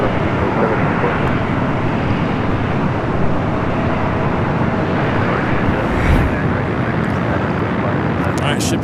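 An American Airlines Boeing 777-300ER bound for London Heathrow takes off from the south side at LAX, sending out a loud, steady, broadband jet roar that barely changes throughout.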